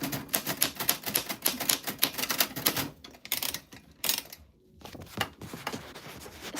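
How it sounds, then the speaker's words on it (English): An old manual typewriter types in a rapid run of sharp, closely spaced key strikes, pauses briefly, then resumes with scattered clacks, all close and with no voices. "So an exclamation point on an old typewriter is a period and then a backspace and then a comma over it"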